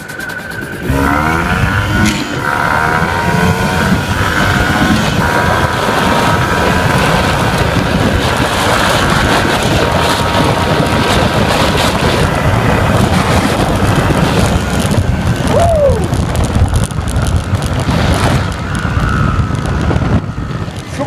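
An MZ 251 motorcycle accelerates while being ridden on the road, its engine a loud continuous roar blended with heavy wind buffeting across the microphone, steady and close throughout with no talk.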